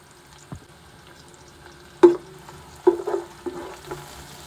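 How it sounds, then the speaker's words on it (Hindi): Garlic and ginger frying in oil with green onion, green garlic and cumin for a pea pulao, giving a low steady sizzle broken by a few sharp stirring clinks and scrapes, close by with no talking. "एक मिनट हम इसको फ्राई कर लेते हैं।"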